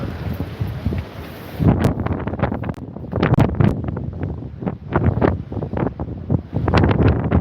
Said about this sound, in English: I know it's very windy up here.